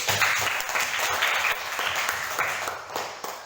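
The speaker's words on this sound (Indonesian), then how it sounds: "Tepuk tangan dulu." A class of pupils applauding in a classroom lesson, a steady, fairly close round of many hands clapping that runs the whole time with faint voices beneath.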